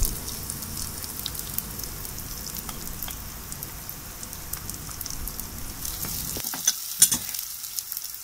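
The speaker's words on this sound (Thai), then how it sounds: "พริกกับกระเทียมตำให้เข้ากันแล้วก็ลงไปผัด" Pounded chili and garlic sizzle and crackle steadily in a hot pan while being stir-fried, with the scrape of a utensil stirring near the end, loud and close, with no talking.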